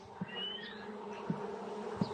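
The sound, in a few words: honey bees buzzing at a hive frame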